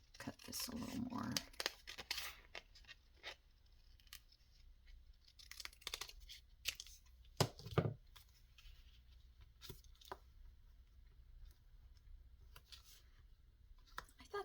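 Scissors snip through paper rose ephemera with a series of sharp, close cuts, some brisk clusters and some single snips, along with light paper rustling.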